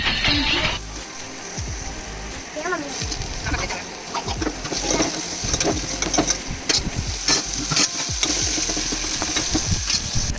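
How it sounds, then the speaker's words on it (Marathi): Onion and tomato fry in a pan for pasta, giving a hissing sizzle with stirring scrapes and splatters, while a voice talks intermittently over the cooking. "हे मस्त छानपैकी असं परतून घ्यायचं छान होईपर्यंत"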